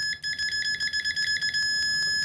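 Continuity beep from a Thsinde 18C multimeter, a loud high-pitched electronic tone that stutters in a rapid series of pulses before latching into a steady sustained beep.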